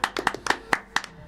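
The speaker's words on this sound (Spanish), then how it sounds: "aplauso, maestro." Hands clapping at a family music gathering, a short burst of about eight distinct, fairly close claps with a loose, uneven rhythm and no talk over them.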